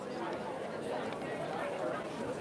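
Steady crowd chatter fills a busy Photo Booth Expo 2019 trade show floor, many overlapping voices forming a continuous, even murmur with no single voice standing out.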